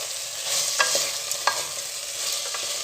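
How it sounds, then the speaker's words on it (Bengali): Malabar spinach (pui shak) being stirred in a pan, a steady soft frying hiss broken by a few sharp scraping clicks of the spoon, close and alone with no talk. "পুঁই শাকটা বেশ কিছুক্ষণ নাড়াচাড়া করব"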